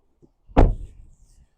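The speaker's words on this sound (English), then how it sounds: "Passenger door." Single solid thud as a passenger door shuts on a 2025 Honda Civic Sport, close and loud after a faint click, then a short low rumble fading out.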